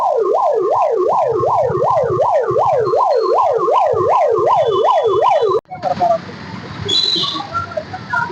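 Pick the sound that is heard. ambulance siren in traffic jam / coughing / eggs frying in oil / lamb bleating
ambulance siren in traffic jam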